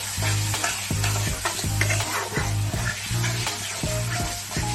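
Boiled chickpeas fry in a pan with oil, giving a continuous close sizzle. A spoon stirs them in repeated rhythmic scrapes and clatters, roughly twice a second.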